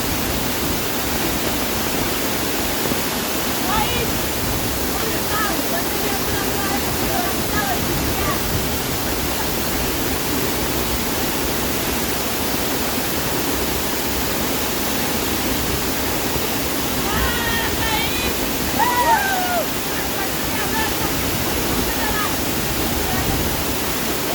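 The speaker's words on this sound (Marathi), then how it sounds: "फायनली आपण धबधब्याला पोहोचलो. तर धबधबा पाहू शकताय भावांनो." A waterfall rushes in a steady, dense roar that stays even throughout, with faint bird chirps now and then above it.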